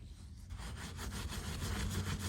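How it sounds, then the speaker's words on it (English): Scrubbing rust off a beach cruiser bicycle's sprocket with an SOS steel-wool soap pad, a steady, close rasping rub that builds after a brief pause and continues without talk. "All you got to do is just go ahead and scrub it."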